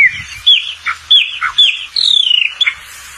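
Chopi blackbird (pássaro preto) of Brazil singing a varied song of clear whistled and squawky notes in quick bursts, including a rapid trill, loud and close with no other sounds.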